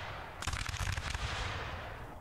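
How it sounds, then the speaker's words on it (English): Cannon fire in the video game Rise of Liberty erupts as a rapid, rumbling cluster of booms that swells for about a second and then trails off into a fading roar. "Oh, incoming cannons."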